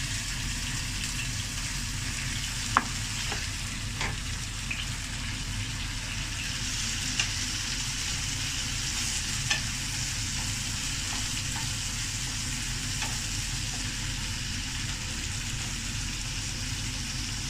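Steady, soft sizzling of onions frying in a pan, a continuous hiss with a few faint clicks and pops throughout.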